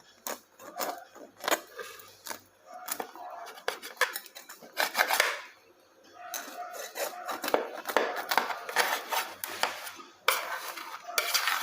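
A knife saws through a homemade loaf of bread up close, its crust crackling and rasping in a run of short, rhythmic strokes with brief pauses between them.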